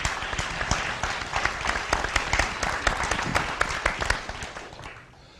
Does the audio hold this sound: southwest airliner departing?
no